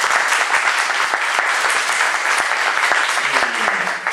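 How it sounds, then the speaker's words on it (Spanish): A live audience applauds at a book presentation, steady dense clapping filling the room for several seconds with a brief voice surfacing near the end. "que le demos un aplauso primero"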